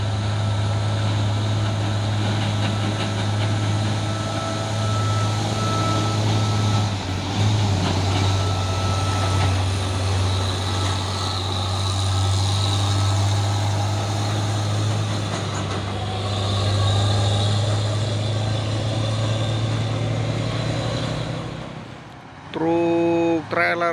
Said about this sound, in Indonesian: Truk trailer Puso ini ya, membawa kontainer